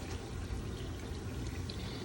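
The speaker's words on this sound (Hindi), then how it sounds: "मैंने इसी कुकर में जिसने गोश्त को बॉईल किया इसी में मैंने पानी डाल लिया" Water is poured into a pressure cooker holding boiled beef, a brief, steady splashing gush that stays constant throughout, close up and fairly quiet.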